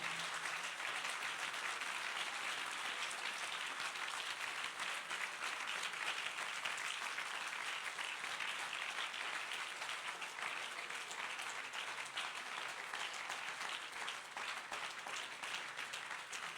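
A church congregation applauds during a sermon, sustained dense clapping from many hands that carries evenly throughout without pause, moderately distant and filling the room.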